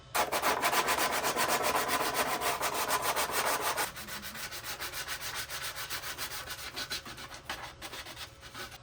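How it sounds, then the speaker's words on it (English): A plastic stormtrooper armor piece rubbed with sandpaper in fast, rhythmic strokes, loud at first and then softer and rougher after a few seconds, up close with no talking. "Always start with a rougher piece to get those really jagged edges from the Dremel gone, and we'll finish it up with some fine, fine sandpaper."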